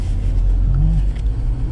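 A Land Rover Defender pulls away in drive on an obstacle training course, its engine a steady low rumble with a brief rising tone partway through, close and continuous with no talk.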